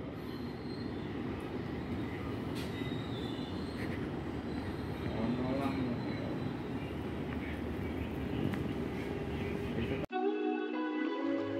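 A Brantas passenger train rolls past with a steady loud rumble of wheels on rails and intermittent metallic squeals, then the noise cuts off abruptly into a short stretch of quieter sound.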